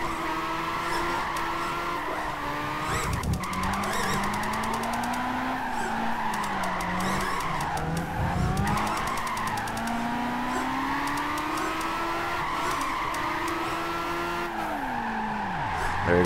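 A Toyota AE86 drifts in Gran Turismo 5 with the handbrake pulled. The engine drones and pitch swings as the revs rise and fall, under sustained tire squeal that holds throughout, loud and continuous with no voice over it.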